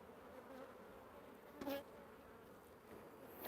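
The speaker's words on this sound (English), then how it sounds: "See them going strong in the winter here." Honeybees in an opened hive during a winter bee yard inspection, a faint, steady, low buzzing hum with a brief louder swell as bees fly close, no talking.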